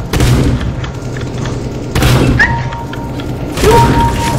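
Gunfire in Counter-Strike: Global Offensive comes as three loud clusters of booming shots, each followed by a rumbling tail and short metallic pings.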